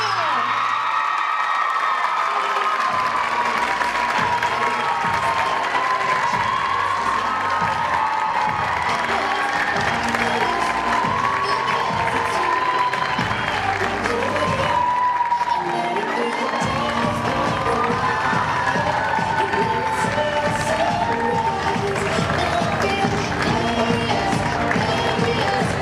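A pageant audience applauds and cheers loudly for the newly crowned Miss Kenosha 2018, a steady dense roar of clapping with whoops running the whole time, and a voice briefly heard over it.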